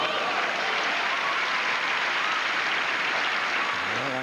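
A large tennis crowd at the 1989 Masters match with Agassi applauds steadily in a dense, continuous wash of clapping, with excited squeals mixed in throughout.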